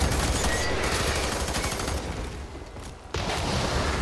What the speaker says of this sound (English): Yeah, use the shotgun.